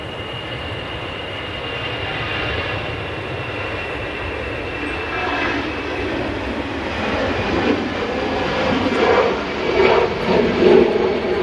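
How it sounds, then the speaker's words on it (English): A Mighty Orange airliner rolls down the runway at Manchester Airport, its engines giving a steady, broad roar that swells gradually louder toward the end, with no talking. "we've got a nice little bit of Mighty Orange, just making its way down the runway"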